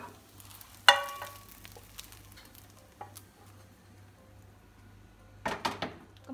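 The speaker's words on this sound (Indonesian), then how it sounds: "kemudian bumbunya ditumis" A faint sizzle of seasoning sautéing in margarine in a pan, with a sharp utensil clink early on and scraping, stirring clatters near the end, otherwise quiet.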